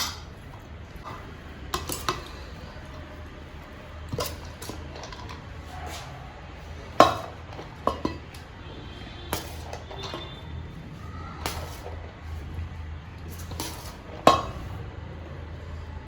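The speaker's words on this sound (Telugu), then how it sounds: "మళ్ళీ అన్నం వేసేసుకుందాం ఇందులో." Cooked rice goes into a chicken biryani pot with scattered clinks and scrapes of a metal spoon against the vessel, sharp knocks standing out over a low, quiet background.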